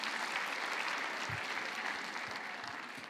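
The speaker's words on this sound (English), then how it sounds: "Give yourselves a round of applause." Conference keynote audience clapping for themselves, a dense, even wash of many hands throughout, moderately loud and without talk.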